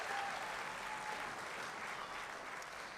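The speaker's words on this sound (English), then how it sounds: "Can we, first of all, give a round of applause for my dad," Audience applause fills a hall at a high school athletics hall of fame induction ceremony, a steady dense wash of clapping throughout with no pauses.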